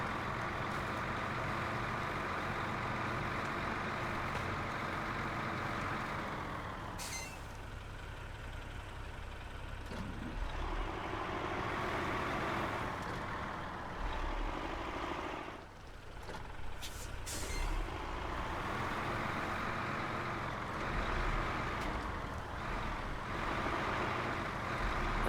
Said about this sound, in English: I'm just feathering the throttle.